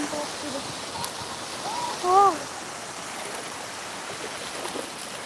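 A village stream flows with a steady, moderate rushing wash close by, and a person speaks briefly over it.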